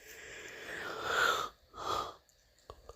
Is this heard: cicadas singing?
no